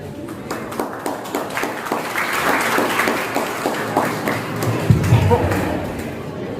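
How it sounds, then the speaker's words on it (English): Students and guests at a school farewell event applaud to welcome a speaker, with a burst of many hands clapping at close range that carries on steadily with some scattered louder claps. "Let's welcome her with a big round of applause."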